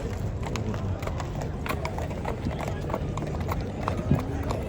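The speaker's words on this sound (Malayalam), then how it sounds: "അപ്പൊ നമ്മളെ കുതിര പോലീസിന്റെ കുതിരയാണ് കേട്ടാ." Hooves of a police horse clop along a city street near a metro on a day of road closures, a faint irregular clatter mixed with crowd noise and people talking.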